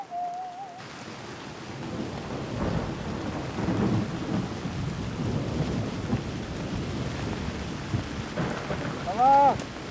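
A thunderstorm with rain high in the Alps: steady heavy rain patters throughout while low thunder rolls and rumbles underneath, loud and close, with a brief tone at the start and a short warbling sound near the end.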